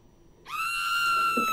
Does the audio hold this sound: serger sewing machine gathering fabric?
no